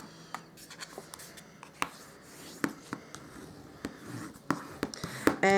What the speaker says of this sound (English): I'm just going to now burnish the score line with my bone folder.